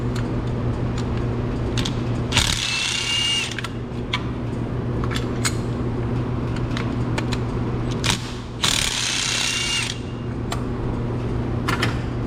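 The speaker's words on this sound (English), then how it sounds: "to remove our spark plugs, we're going to need a deep socket 14 millimeter" A 14 mm deep socket on a ratchet turns out spark plugs on a Nissan 2.0 engine, giving bursts of quick ratcheting clicks with short pauses, close and clear, amid low mechanical handling noise and no voices.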